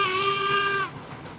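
A steam locomotive whistle in the railroad game RailRoads Online gives one loud, steady, harmonic-rich blast that cuts off abruptly, leaving faint ambient noise.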